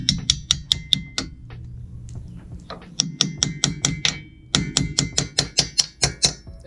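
A small hammer taps repeatedly on the rear brake parts of a 2007-2015 Audi Q7, giving sharp metallic strikes in quick bursts with brief pauses between them, close and clear.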